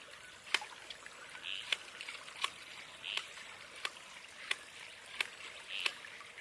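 A Purisoo hand-pump water filter is worked in a steady rhythm, each stroke a sharp click with a brief squirt of water, about nine strokes over a faint trickling background.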